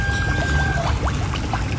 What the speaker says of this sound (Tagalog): may sariling tubig na umaagos galing nawasa